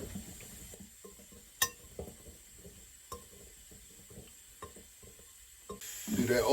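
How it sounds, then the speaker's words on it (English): Flour flicked into hot grease to test it before frying smothered beef liver gives a faint, soft sizzle with a few sharp clinks of a pan or utensil, then the frying swells louder at the end. "Flick that flour in there, you see it frying up, right?"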